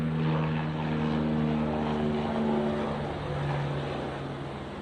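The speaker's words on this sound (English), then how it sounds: "Helicopter." A helicopter drones overhead with a steady, fairly loud rotor and engine hum that fades slightly toward the end, with no voices.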